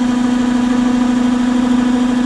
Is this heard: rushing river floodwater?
no